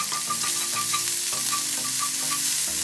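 Ground beef stir-frying in sesame oil in a preheated pan, a close, steady sizzle with rhythmic spatula scraping and stirring throughout, no voices.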